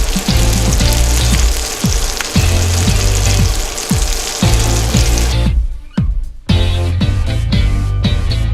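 Carp fillets frying in a pan, a loud steady crackling sizzle with regular clinks and knocks, dipping briefly to quieter hissing before the sizzle returns.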